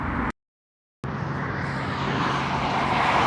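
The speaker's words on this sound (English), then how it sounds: "I'm on a street, a bunch of cars going by" Steady broadband rumble of cars passing on a city street, recorded through a MAONO Wave T5 wireless microphone, with a brief dropout to silence near the start before the continuous traffic wash resumes, loud and close.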